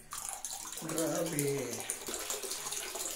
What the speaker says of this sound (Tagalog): Ang dumi ng ang dumi ng tubig na lumalabas.